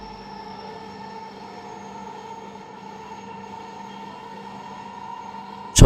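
Dhaka metro rail train running between Uttara South and Pallabi stations, a steady hum and rumble heard from inside the carriage with tonal motor whine, even and continuous, with a brief louder knock at the very end.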